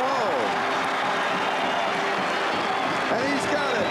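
An indoor crowd at Madison Square Garden roars and cheers during a track race, a dense, loud and continuous wall of noise. An announcer talks over the crowd.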